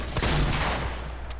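Rapid burst of gunfire in the Fortnite Battle Royale video game, several close, loud shots fired in quick succession, then fading into game ambience.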